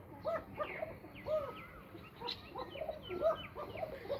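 Young pigeon chicks of a desi or coca breed call repeatedly, giving short faint chirps and squeaks at an irregular rhythm against quiet background hum.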